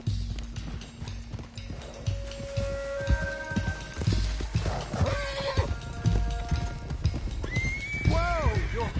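Horses neigh and whinny over clip-clopping hooves at a steady gallop in a PS4 game, with voices talking over the game sounds and a loud whinny near the end.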